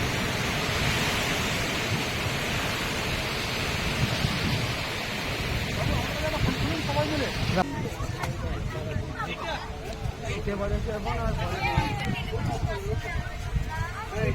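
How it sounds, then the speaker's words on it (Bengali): Rain falls steadily at a seaside resort in Digha, a continuous broad wash of noise with people talking over it throughout. "বৃষ্টি হচ্ছে"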